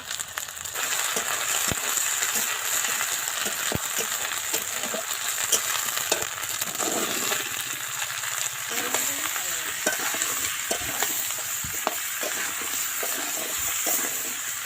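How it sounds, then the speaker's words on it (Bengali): Crab pieces frying in oil with ginger, garlic, onion, green chilli and bay leaf, giving a steady, even sizzle throughout, with occasional stirring clinks and scrapes and no talking. "কাঁকড়া ভাজটা বসিয়ে দিয়েছে"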